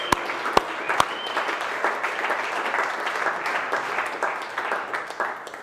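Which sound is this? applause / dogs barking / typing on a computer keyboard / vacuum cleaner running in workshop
applause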